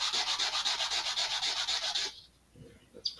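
Burrs are sanded off a part for an Estes Black Brant XII model rocket, with rapid rhythmic back-and-forth rasping strokes for about two seconds, then a stop and a small tap, close and fairly quiet.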